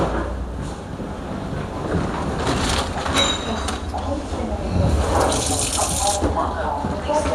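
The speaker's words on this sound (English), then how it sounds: "we will need to wash our hand to clean ourselves" Tap water runs into a sink for handwashing, a steady splashing gush with some louder surges, while a person talks over it.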